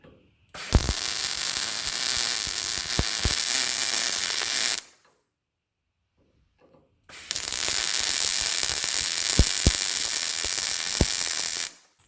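Two long bursts of crackling, sizzling welding on a Jeep JLUR diesel engine skid plate, each a few seconds long with sharp pops, separated by a quiet pause, with no talking.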